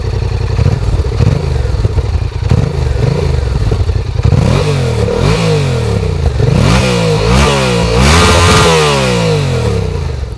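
A Yamaha MT-07 with a 270-degree crankshaft twin engine revs loudly and close by, with repeated rising and falling sweeps over a rough, throbbing idle.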